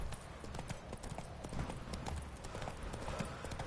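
Horse hooves clip-clop at a steady trotting rhythm in a video game, close and continuous, with faint background game ambience.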